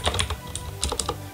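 Quick bursts of keystrokes on a computer keyboard, close and crisp, tapped in an uneven rhythm of about a dozen presses with no talking.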